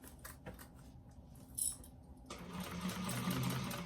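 A sewing machine back stitching the lining of a bag runs in short bursts, then settles into a steady, buzzing whir near the end, with light clicks and handling noise throughout.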